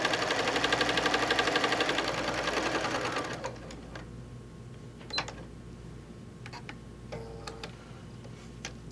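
A sewing machine stitches down the short side of a quilt block cut from a layer cake, running in a steady, close, loud burst for about three seconds before stopping, followed by a few faint clicks and handling sounds.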